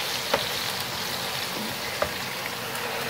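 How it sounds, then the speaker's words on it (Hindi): Taro root (arbi) frying in oil, a steady dense sizzle with no break and a couple of faint ticks and pops over it, close and fairly loud. "एक तरफ हमारी अरबी फ्राई हो रही है।"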